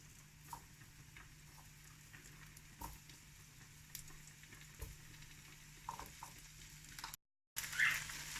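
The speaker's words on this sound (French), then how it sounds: "Dans une poêle chaude, y ajouter les 2 cuillères à soupe d'huile d'olive, puis disposer les crevettes une à une pour les faire dorer de chaque côté." Shrimp laid one by one into hot olive oil in a pan give a faint, steady sizzle with scattered small pops and stirring clicks, and it cuts out briefly near the end.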